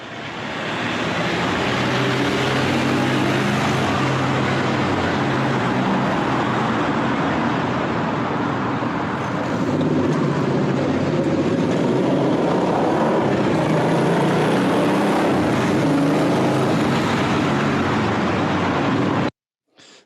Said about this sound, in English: I'm going to play some relatively loud traffic noise.